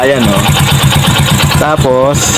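A motorcycle fitted with a foot-operated clutch, ridden by a man missing a hand, idling with a steady low pulsing throb close by while people talk over it.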